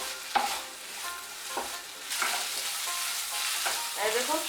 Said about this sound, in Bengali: দিয়ে সর্ষে আর পোস্তটা একটু ভালো করে ভেজে নেব